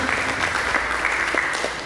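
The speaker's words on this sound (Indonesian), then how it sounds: "mari kita berikan tepuk tangan bagi Yesus Kristus" A church congregation claps loudly and continuously for Jesus Christ, a close, dense burst of applause that fades slightly toward the end.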